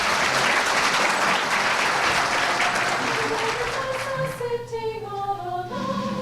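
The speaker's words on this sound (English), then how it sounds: "join me in a round of applause for our great chamber singers from Elmhurst College" Sustained applause from a breakfast-event audience for college chamber singers, loud and full at first, then easing as a sung tone rises beneath it.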